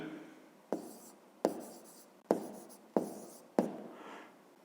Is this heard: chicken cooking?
no